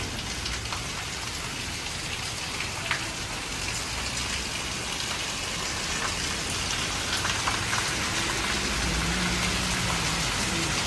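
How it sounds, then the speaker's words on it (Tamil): Heavy rain falls steadily during a flood alert near a riverbank, a dense continuous hiss of drops close by with no talking. "நான் மழை தொல்லை வேறு தாங்க முடியல பெய்து ஒரு மணி நேரமாக நின்றுட்டுருக்கேன் பயங்கரமான மழை"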